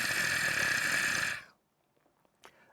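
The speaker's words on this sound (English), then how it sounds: "of muted strings, con sordino, played very softly in a very large and ambient space, or with a ton of reverb and processing added" Muted strings played con sordino and very softly in a large ambient space with heavy reverb: a sustained, layered tone that suddenly drops away after a moment, leaving near silence with faint stray sounds.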